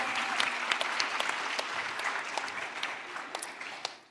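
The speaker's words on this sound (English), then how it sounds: "let's give it a round of applause for native stables in Cosmos" Sustained, loud crowd clapping fills a blockchain conference hall, with sharp individual claps standing out throughout and no speech over it.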